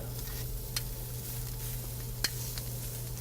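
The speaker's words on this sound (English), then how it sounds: "I always just like to press the steaks down to make sure that all parts of the steak is touching the grill or the stone." Steaks with a spice rub sizzle face down on a hot grill stone, a steady quiet frying hiss with a low hum beneath and a couple of faint crackling pops.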